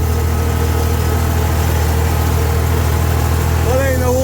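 A steady tractor engine drone runs throughout, low and continuous like idling, during hay mowing, with a voice briefly heard near the end.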